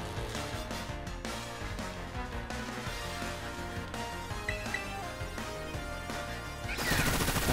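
Bullet Seed attack in the Pokémon Violet video game, a rapid volley of sharp popping impacts fired in quick succession against a busy game soundtrack, growing into a louder burst at the end.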